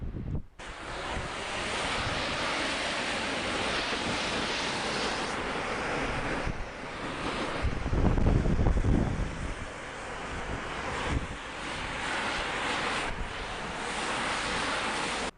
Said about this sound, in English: first thing we're going to do is rinse the dirt off.